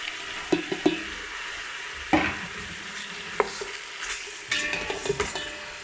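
Onion frying in a pan for a couscous sauce, a gentle sizzle punctuated by several distinct utensil scrapes and knocks against the pan, close and without talking.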